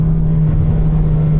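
A Volkswagen Polo GTI hatchback engine held at high revs above 4000 RPM, a steady loud droning roar with no pause, close and alone.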